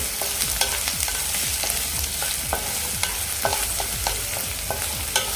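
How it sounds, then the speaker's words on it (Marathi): Chopped onion fries in a pan until golden brown, giving a constant crackling sizzle broken by quick, regular scrapes and clinks of a spoon stirring, close and loud, with no voices. "आपला कांदा गोल्डन ब्राऊन होईपर्यंत आपण हे फ्राय करून कांदा भाजून घेऊ"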